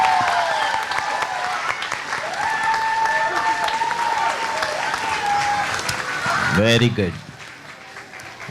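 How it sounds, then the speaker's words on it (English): Audience applause at a summer camp finale, a broad crowd clapping under an announcer's voice and scattered talk, loud and close, then cutting off sharply near the end. "Give a big round of applause."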